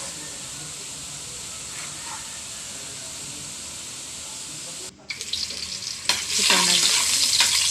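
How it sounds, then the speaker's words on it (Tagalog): Garlic for pork adobo hisses steadily in a hot pan, briefly cuts out, then returns as louder crackling with scraping stir strokes; a voice says a word briefly. "nagsigang na ako ng bawang. Pinapainit ko yung bawang"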